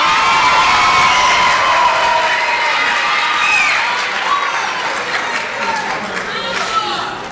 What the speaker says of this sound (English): Can everyone give another round of applause?